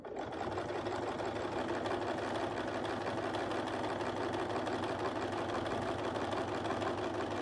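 A sewing machine runs in a steady, continuous fast whir as it stitches around a Westalee Curly Q ruler, close up, with no talking.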